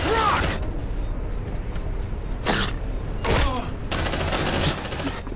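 Gunfire in the sci-fi shooter Aliens: Dark Descent, with several short bursts of shots cutting through a busy game mix, fairly loud and close, alongside talking voices.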